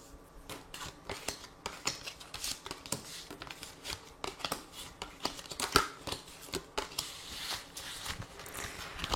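Tarot cards shuffled and drawn for a reading: a dense run of crisp riffling and snapping card sounds, close and fairly loud, with sharper slaps now and then and no talking.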